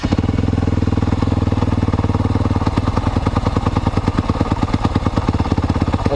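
An enduro motorcycle engine runs nearby with a rapid, rough, loud putter, settling into a steady idle.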